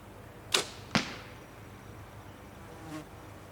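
Two arrows shot from a bow with finger and mechanical releases, each a sharp whooshing snap about half a second apart, followed by a faint distant thud; quiet otherwise.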